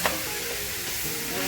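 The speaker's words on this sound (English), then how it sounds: "And get those onions mixed in real good." Onions and meat for loaded nachos sizzle and are stirred in a hot pan, a dense close frying hiss with faint scraping beneath.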